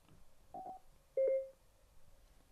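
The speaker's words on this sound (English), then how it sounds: "wait for your phone to beep." A short electronic beep rings out clearly once in a quiet room from a Cardo Scala Rider Freecom 4 motorcycle intercom, preceded by a brief softer tone.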